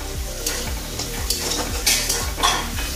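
Spice paste for egg curry being sautéed in a pan, a continuous sizzle broken by rhythmic scraping strokes of a spoon against the pot, close up and without talk.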